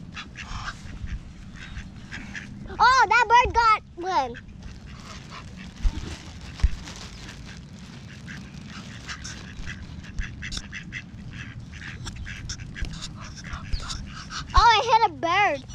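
Ducks being fed bread at a pond break into loud bursts of quacking in two clusters, close by, with people chatting throughout and outdoor noise in between.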